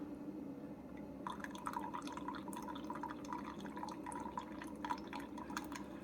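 Quiet steady drip and trickle of hot water as a Keurig coffee maker brews 8 ounces through a refillable DeliBru reusable K cup, a soft continuous fill with irregular patter, no voices.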